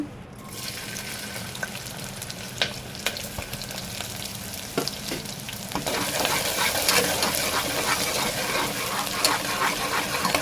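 Sliced big onions frying in hot oil in a pan, a steady crackling sizzle that grows louder and denser partway through, with occasional stirring clinks and no voices.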